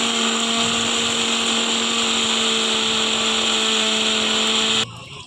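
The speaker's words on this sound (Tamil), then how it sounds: "மிக்சியில் பாருங்கள் தண்ணி ஊற்றி அரைக்கிறோம்." A mixer grinder blends grated coconut with water for coconut milk, a loud, steady whirring motor drone that stops abruptly near the end.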